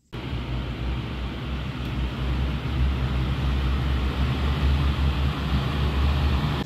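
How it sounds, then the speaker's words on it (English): Greenhouse exhaust fan running, a steady loud low-pitched drone with broadband airflow hiss that starts abruptly and holds constant throughout. "just turned the exhaust fan on and came around the back"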